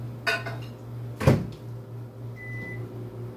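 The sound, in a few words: microwave oven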